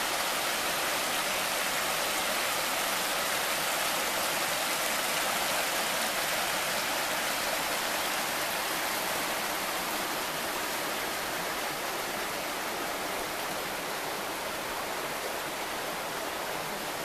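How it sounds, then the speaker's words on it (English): The Thornton River in Shenandoah National Park runs beside a campsite, a steady, full rushing of water that stays loud and even from start to finish with no voices. "Here's what the Thornton River looks like next to that first campsite."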